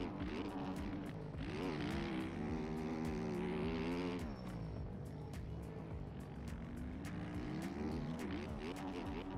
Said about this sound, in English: the engine sounds on Sim are pretty arse cheeks